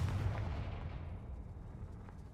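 A Confringo fire curse blasts off in Hogwarts Legacy, a loud booming explosion with a sharp initial burst that rumbles and fades over a couple of seconds.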